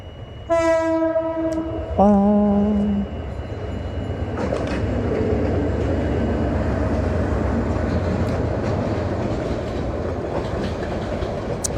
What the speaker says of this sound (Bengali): ওই যে আসতেছে ট্রেন